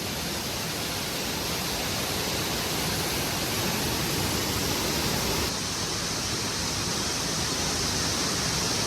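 Domzira waterfall in Jawhar, Palghar pours in a dense, steady roar of rushing water, loud and constant throughout with no pauses.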